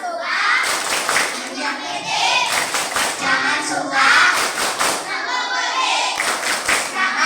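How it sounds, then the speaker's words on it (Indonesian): Schoolchildren perform a rhythmic anti-bullying clap routine, repeated group clapping patterns mixed with chanting voices, loud and close throughout. "2, 3 tepuk anti bullying"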